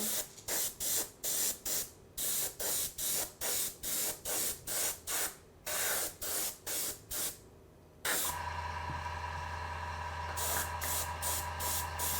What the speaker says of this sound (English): if you keep your sprays very controlled, it dries almost instantly